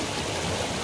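A forest creek flowing on a foggy morning, a steady broadband rush of moving water close by, with no voices.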